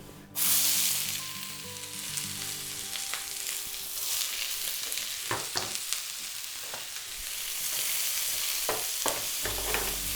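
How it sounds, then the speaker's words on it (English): Chopped onions sweat in a hot pan with a steady, close sizzle and frying crackle, broken by occasional stirring scrapes and clicks of a utensil. "So we're just going to sweat those onions down till they soften and become really lovely and fragrant."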